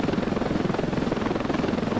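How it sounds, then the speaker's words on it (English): Helicopter in the video game Ravenfield, a loud, steady rotor and engine roar with a fast, even throbbing pulse that runs throughout, heard close with no talking. "Good old OP helicopter."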